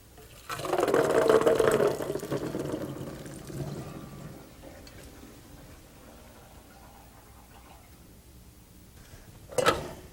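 Cooked chickpeas drained in a kitchen sink: a loud burst of pouring water and splashing for about two seconds, tapering into a softer trickle, then a brief sharp clatter near the end.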